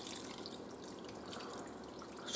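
Water poured into a pan over mackerel prepared en escabeche with white wine vinegar and oil, a soft continuous trickle with small splashy drips, fairly quiet and steady with no talking.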